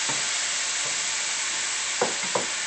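Chopped mushrooms frying in a pan give a steady, close sizzle, with a few brief stirring scrapes near the end.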